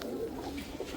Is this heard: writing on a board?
no